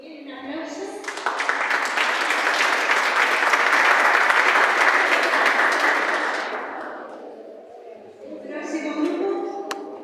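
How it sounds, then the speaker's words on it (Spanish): Applause from a workshop audience on child abuse prevention at a school in Cipolletti, swelling into a dense, loud burst of many hands that fades after several seconds, followed by voices talking. "Bien, un aplauso."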